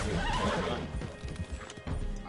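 A horse whinnies and neighs loudly in the Red Dead video game, with clip-clopping hooves mixed in, close and prominent for most of the moment.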